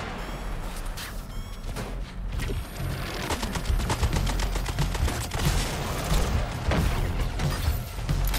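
Gunfire from the video game Suicide Squad: Kill the Justice League, with rapid bursts and dense automatic volleys crackling loudly and continuously, mixed with impacts and mechanical clatter.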